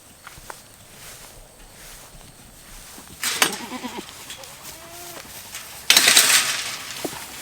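Goats on a farm pen during breeding season, with a couple of bleats, scuffling footsteps and clattering in a wet outdoor setting, the louder noises breaking out midway and near the end.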